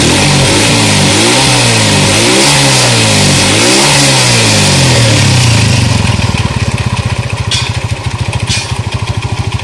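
A Honda TMX CG 125 motorcycle engine, converted to CDI with advanced ignition timing, revs loudly up and down several times close by, then settles into a fast, steady, rattling idle; its exhaust leaks.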